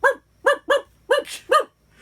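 A dog barks repeatedly at an RV campground, five or six sharp, fairly close barks in an uneven rhythm, with short silences between them.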